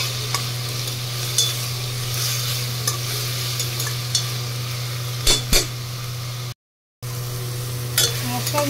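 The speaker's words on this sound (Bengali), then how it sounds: "মশলাগুলো ভাজা ভাজা হয়ে গেল" Spices frying in a pan with two spoons each of ginger and garlic paste, stirred with a spoon: a steady close sizzle broken by occasional sharp scrapes and clicks, with no talking.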